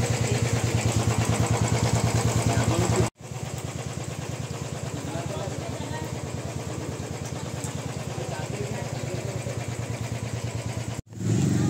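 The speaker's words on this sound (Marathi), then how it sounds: "सो ते 3rd बाईक आली आहे" Motorcycles arrive on a monsoon group ride from Mumbai to Goa near the Amboli ghat. Close, steady engines idle and rumble for the whole clip, with two brief cuts.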